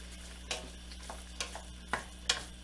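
Ground meat for lasagna browns quietly in a pan, a soft sizzle broken by four or five brief scraping stirs spaced about half a second to a second apart.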